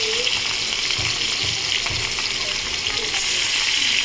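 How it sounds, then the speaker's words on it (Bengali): Pieces of katla fish sizzle in hot oil in a pan while a Bengali kaliya curry is cooked. A loud, steady frying hiss fills the whole stretch up close, with a few soft low knocks underneath. "তো আমার তেল গরম হয়ে গেছে, আমি মাছগুলো দিয়ে দিলাম।"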